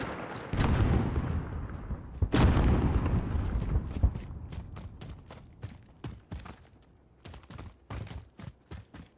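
Grenade detonation in a first-person video game firefight, a heavy close boom followed by a second blast, then a run of sharp gunfire cracks tapering off; no talk during it.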